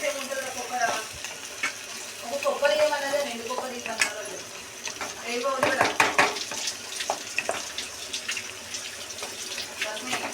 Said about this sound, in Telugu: ఇప్పుడు ఆనియన్ ఫ్రై చేస్తున్నాం.